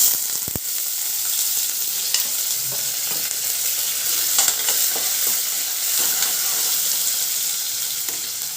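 Chopped onion with cumin and mustard seeds frying in a pan for a cauliflower curry, a steady, close, bright sizzle that runs throughout, broken by a few soft stirring scrapes, with no talk.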